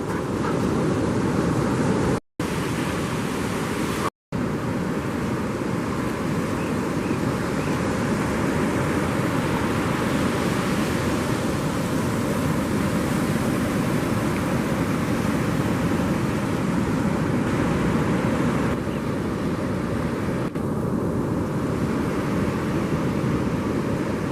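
Steady roar of surf on a long flat beach at the St Lucia Estuary, a continuous broadband wash with wind noise and no distinct breaks, loud and close throughout.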